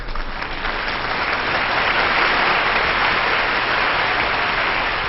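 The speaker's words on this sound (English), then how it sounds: "Here's a round of applause for the Governing Council of the Nnamdi Azikiwe University" A crowd applauds for the Governing Council of Nnamdi Azikiwe University, the clapping thick and continuous, swelling slightly after the first second and staying loud and even throughout.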